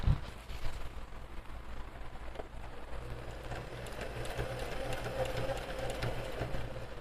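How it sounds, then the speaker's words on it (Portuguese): A domestic sewing machine runs steadily while stitching a pocket into a fabric bag, with a continuous mechanical hum and rhythmic needle clatter after a brief start, close and moderately loud, with no talking. "Giro e baixo novamente para dar continuidade na costura."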